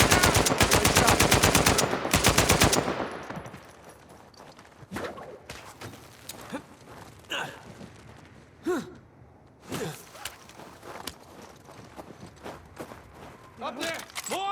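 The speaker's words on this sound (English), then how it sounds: "Sam, sniper! Find cover!" Sniper fire and rapid gunshots in the Uncharted 4 video game, with a loud burst of automatic fire at the start followed by scattered sharp shots, gasps and effortful breaths over a noisy battle background.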